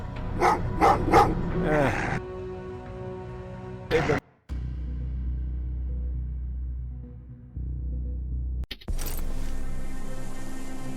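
Dogs in the video game Terminator: Resistance bark several times in quick succession at the start. A low rumbling drone and ambient game sounds follow.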